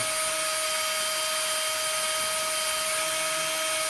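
Steady high-pitched whine of a drill spinning a Honda CB750 carburetor overflow tube against 120-grit sandpaper, with a constant tone, running continuously and fairly close, with a faint rough hiss of abrasion.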